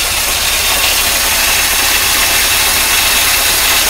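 A 1953 Oldsmobile Rocket Super 88 barn-find engine idles loudly and steadily up close, a dense continuous rumble with a rough, hissing edge and no voices.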